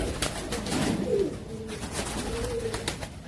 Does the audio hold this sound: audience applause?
no